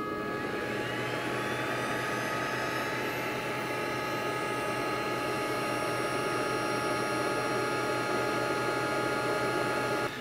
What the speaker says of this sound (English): here is the startup sound of the machine